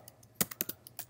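Typing on a computer keyboard: a quick burst of about eight faint, sharp key clicks in an uneven rhythm, close by in a quiet room.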